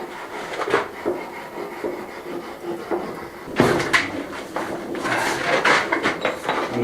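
Steady scrubbing and rubbing on the surface of a wood burner being refitted at an off-grid home, heard nearby as continuous rasping strokes with a few louder scrapes and knocks partway through.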